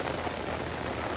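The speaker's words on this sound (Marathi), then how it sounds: "एवढा जोरात पाऊस आला इकडं." Heavy monsoon rain pours down over hillside rice fields as a dense, steady hiss with no voices.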